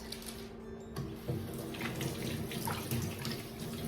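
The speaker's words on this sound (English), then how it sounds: "Let me just wash my hands" A kitchen tap runs steadily while hands are washed under it during cracker baking with almond and flaxseed flour, a continuous moderate splashing hiss with small shifts as the hands move through the stream.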